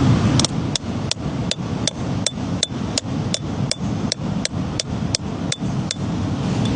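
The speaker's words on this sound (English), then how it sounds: "So if I get my chisel in and it splits like I hope it will" A hammer drives a chisel into rock to split it open around a fern fossil, making a steady run of about seventeen sharp, ringing metallic strikes at a regular pace, close and clear.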